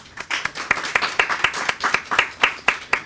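At an Urdu poetry book ceremony, the audience welcomes a speaker with rhythmic clapping. The sharp claps land in an even, regular beat at close range and carry on throughout.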